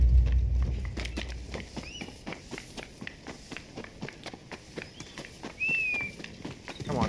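A horse's hooves clip-clop in the video game Rise of the Ronin, a regular, fairly close series of sharp hoof strikes lasting the whole clip, with faint ambient game sounds and a brief bird-like chirp.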